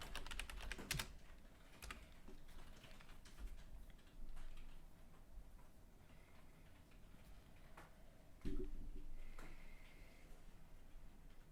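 Someone types on a computer keyboard in a quiet room, faint clusters of clicking keystrokes with a few louder key presses, irregular bursts and short gaps, with no talking.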